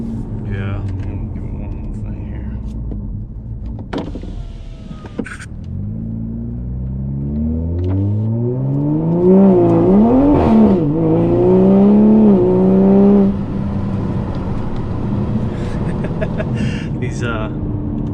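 Tuned 480 hp Toyota Supra with FBO upgrades, an E30 map and valvetronic exhaust, heard from inside as the engine rumbles, then climbs through loud rising revs and shifts before settling back, with talk throughout.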